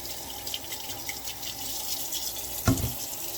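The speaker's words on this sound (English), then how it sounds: "Now I'm going to switch this over back to the cold water." A kitchen tap runs cold water into a sink in a soft, continuous splashing stream, with one brief louder thump or knock near the end.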